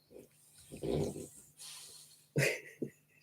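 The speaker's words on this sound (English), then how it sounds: "She keeps snoring." A dog snores and snorts while lying awake, giving a few uneven nasal breaths and wheezy snorts, close by and fairly quiet, with no talking over it.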